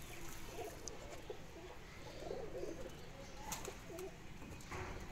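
A Heera Lal breeder female pigeon coos softly in repeated low throaty phrases, close but quiet, against a faint hiss of room noise and other birds' murmurs.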